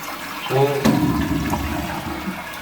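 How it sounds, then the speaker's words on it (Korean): A budget toilet is flushed at close range. After a brief voice, a loud rush of draining water starts and keeps going steadily to the end. "이 상태에서 물 내려 볼게요"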